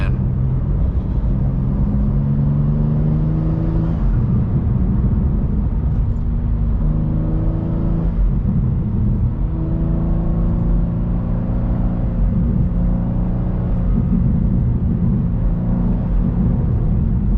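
BMW M2 accelerating in sport mode, heard from inside the car as a loud, steady engine roar with rising tones through repeated gear changes, sustained throughout with no talking.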